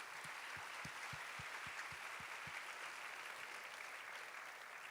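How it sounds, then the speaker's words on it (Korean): Steady, lively applause from a church university-group congregation, filling the whole stretch at an even level with no voices on top. "뜨겁게 박수하도록 하겠습니다."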